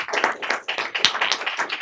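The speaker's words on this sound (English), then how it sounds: "I want to give a huge round of applause to our panel." An audience applauds a panel after a conversation, giving brief, dense clapping that sounds close and moderately loud, with no talking.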